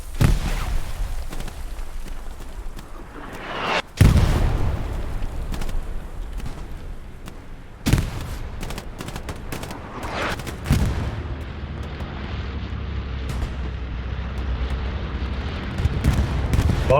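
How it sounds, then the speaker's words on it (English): Deep booming explosions from a bombing run in a competitive multiplayer war video game, three big blasts spaced a few seconds apart, each followed by rumbling debris over continuous battle noise. "Bombing run coming in from Arc"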